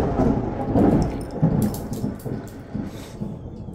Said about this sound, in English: And yes, that was thunder.